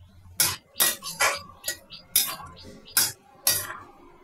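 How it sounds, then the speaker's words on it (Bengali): Ghugni, spiced Bengali peas, stirred in a pot with a metal spoon after the lid comes off: seven or eight sharp scraping clinks in an uneven rhythm, close and fairly loud, with no voices. "এবার ভালো করে নেড়ে দেব।"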